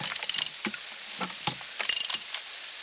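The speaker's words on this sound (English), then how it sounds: "this cap is supposed to be torqued to 18 foot-pounds" A wrench clicks as it torques the oil filter cap on a Buick Encore with a 1.4L four-cylinder Ecotec engine, two quick bursts of close ratchet ticks separated by a few softer isolated clicks.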